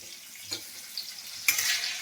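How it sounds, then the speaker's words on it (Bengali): Papad frying in hot oil gives a quiet, crackling sizzle with brief bursts, the loudest near the end. "আমি এখানে এখানে পাঁপড় ভাজছি"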